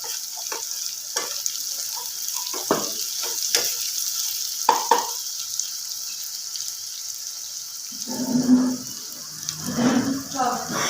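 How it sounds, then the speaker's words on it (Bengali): Whole garam masala stirred in a pan over a high flame for dhaba-style egg curry, a continuous hiss with rhythmic scraping stir strokes, and a voice talking briefly near the end. "এবার গ্যাসটা একটু হাই ফ্লেমে করে মশলাটা আমি মিশিয়ে নেব"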